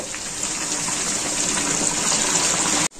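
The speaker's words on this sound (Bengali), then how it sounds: "এখন আমি মাংসের মধ্যে জল ঢেলে দিব" Water gushes in a loud, steady pour into a masala chicken curry with potatoes, a close continuous rush that cuts off abruptly at the end.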